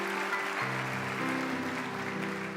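A crowd at an awards ceremony claps steadily, a sustained wash of applause with a low hum beneath it.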